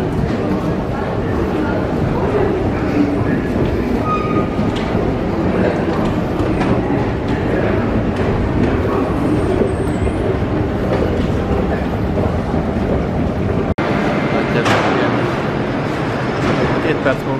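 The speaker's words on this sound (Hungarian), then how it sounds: "A 14-es az Párizs legújabb metróvonala, természetesen önvezető, peronajtós, szépen fel van újítva." Driverless Paris Métro line 14 train running underground, a steady rolling rumble and rail noise throughout, with a brief sharp click partway through and a slight change in tone afterward.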